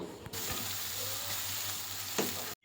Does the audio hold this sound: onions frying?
yes